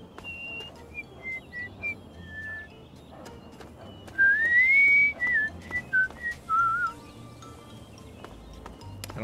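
A character whistles in the post-apocalyptic video game Fallout 3, first a few short notes and then a longer rising and falling melodic phrase, clear and close over faint ambient background.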